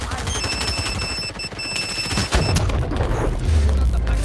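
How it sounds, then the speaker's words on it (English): Rapid bursts of gunfire in the multiplayer VR shooter Pavlov, loud and dense, with booming low thumps and a steady high tone running through, continuing without pause across the stretch. "I hear a lot of shooting"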